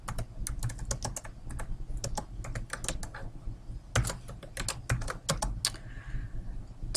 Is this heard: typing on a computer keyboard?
yes